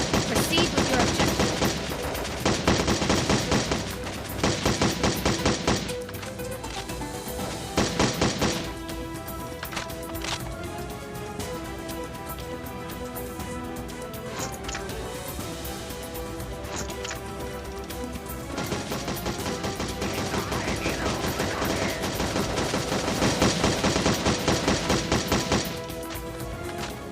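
Gunfire in the video game Modern Combat Sandstorm sounds as dense, repeated automatic bursts at the start and end, with scattered shots and game radio voices between them.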